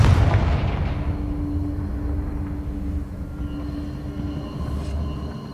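A Confringo fire spell cast in Hogwarts Legacy lands as a loud booming blast at the start, followed by a sustained rumbling roar that persists throughout.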